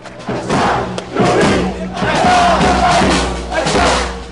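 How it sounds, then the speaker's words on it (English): Large protest crowd in Homs, Syria, chanting loudly in rhythmic waves of massed voices with thumping beats, dense and close. "the crowd respond by demanding the death of the president, by hanging"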